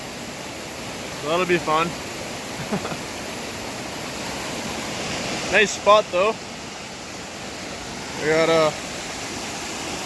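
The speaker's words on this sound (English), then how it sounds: "Neat little waterfall down there, and that connects up to Kearsley Creek." A small waterfall feeding Kearsley Creek in snowy hard-rock gold country, a steady broadband rush of falling water running throughout under intermittent close speech.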